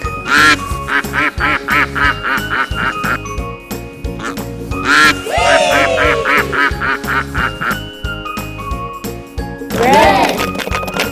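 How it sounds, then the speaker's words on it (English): Cartoon baby duck quacks in an animated children's colour-learning show, a few bright chirpy calls over a busy jingly music bed with tinkling chimes throughout. "A baby duck."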